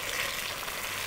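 Onions browning in a pan for palak chicken give off a steady, close sizzle of frying with no breaks, with no voices over it.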